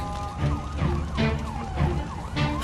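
A fire engine siren wails as firefighters arrive, a loud, continuous rising and falling tone with steady background noise and no voices.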